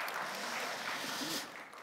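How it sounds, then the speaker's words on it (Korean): A church congregation applauding during a Sunday service, a soft, fairly distant patter of many hands that tapers off toward the end. "우리 큰 박수로 격려해 주시기 바랍니다."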